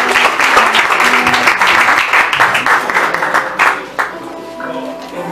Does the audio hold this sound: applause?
yes